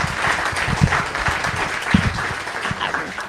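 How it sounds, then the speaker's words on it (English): Crowd applause for a program team at a panel event on prison food, a steady broad wash of clapping through the whole stretch with a few louder bursts. "So let's give them all a round of applause to be here with us today."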